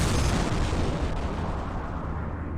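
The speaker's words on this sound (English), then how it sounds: "Don't forget, plasma cannons drain weapons energy." Plasma cannon fire in Strike Suit Zero, a space combat video game: a loud, dense, rumbling burst of blasts that decays slowly, with no voices.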